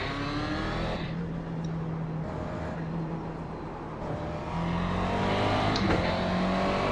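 A race car engine from a racing simulator game drones continuously while lapping a track, with steady revs shifting up and down and a louder surge near the end, with no talk.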